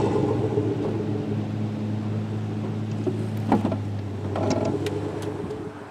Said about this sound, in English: And move the trailer forward to see if the brakes are holding.